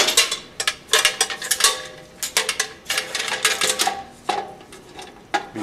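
Plastic cover being fitted back over the filter of an air compressor, giving a run of sharp, close clicks, snaps and rattles in an irregular rhythm, with no voices.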